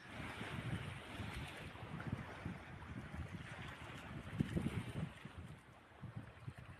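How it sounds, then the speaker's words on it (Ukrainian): Sea waves wash steadily onto a winter beach lined with small holiday cottages. A continuous broad surf roar is overlaid by gusty wind buffeting the microphone, with a few slightly louder surges and no voices. "шум моря."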